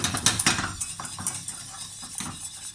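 A whisk beats a sauce in a pan over gas while cooking salmon with sorrel, giving quick metallic clinks and scrapes that are busiest at the start and then settle into lighter, scattered taps.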